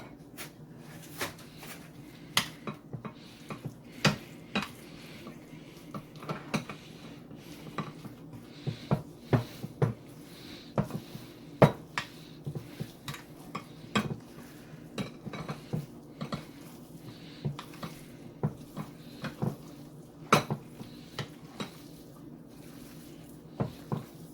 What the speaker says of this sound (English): So now that we have the ingredients all in, let us just mix it together.